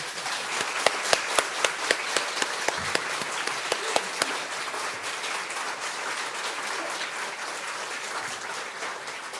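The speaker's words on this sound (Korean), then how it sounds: "우리 박수로 환영하겠습니다." A church congregation applauds to welcome guests, a dense wash of claps from a large room with a few sharper individual claps early on, steady and moderately loud throughout.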